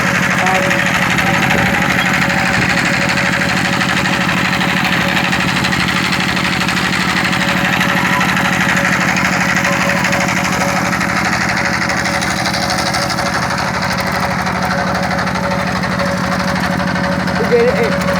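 A clay-packing machine at the S.S.B brick field on Bishwa Road, Comilla, drones as a steady, loud engine hum that does not let up, with muffled voices faintly beneath.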